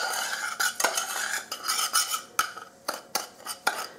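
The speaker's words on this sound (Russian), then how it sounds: "Я сразу их перемешаю," A spoon scrapes and stirs cocoa and sugar briskly around a bowl in close, repeated strokes, with light clinks of metal on the rim and no talking.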